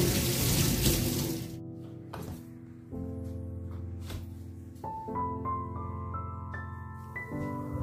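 Running tap water streams steadily into a sink as the lid of a fish scaler is rinsed, a continuous splashing wash with shifting pitch and occasional clinks, close and moderately quiet.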